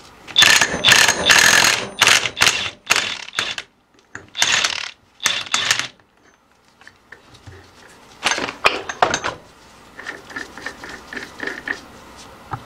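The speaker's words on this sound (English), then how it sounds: "grab your impact, grab your socket, and remove the nut" An impact wrench spins a nut off the secondary pulley of a JF011E / RE0F10A CVT transmission being rebuilt. Loud, close bursts of rattling, ratcheting hammering come in several separate runs with brief pauses between them.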